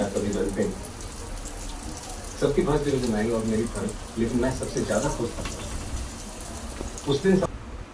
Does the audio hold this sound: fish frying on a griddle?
yes